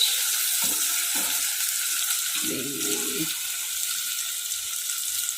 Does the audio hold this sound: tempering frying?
yes